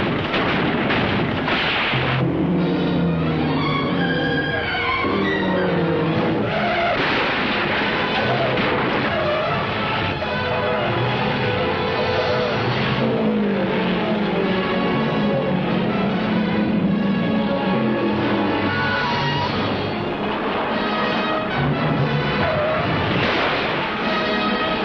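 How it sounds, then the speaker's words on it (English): Race cars pile up in a mass crash during an auto race, a continuous roaring, rumbling din of engines and impacts that stays loud and dense throughout. "you are witnessing the craziest, most stupendous mass crack-up in all auto racing history"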